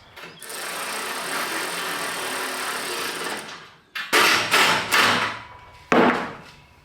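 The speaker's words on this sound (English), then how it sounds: "stick a screwdriver down in there and stop it from spinning and tighten it down really tight" A power tool tightening a bolt on van solar panel mounts whirs steadily for a few seconds, stops, then comes back in several short, sharp bursts, fairly loud and close.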